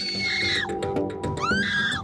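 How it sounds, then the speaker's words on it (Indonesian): Two foreign nationals in Badung, Bali, threatened with a sharp weapon, scream hysterically for help: loud, high wavering cries rising and falling in a close, continuous stretch. "dua WNA terdengar berteriak histeris dan minta tolong"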